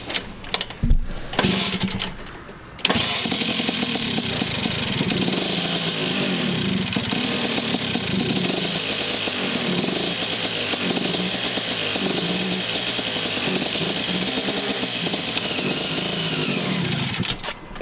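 A Vespa smallframe scooter converted for cross riding runs with no exhaust fitted, giving a harsh, loud, buzzing two-stroke rasp. It starts after a short cough and holds steady for about fifteen seconds with no talk.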